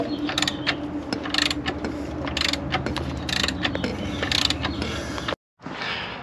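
A 19mm socket and wrench turn the crankshaft of a VW Golf I diesel engine by hand, giving repeated close ratcheting clicks and mechanical creaks in an uneven rhythm, with a brief gap near the end.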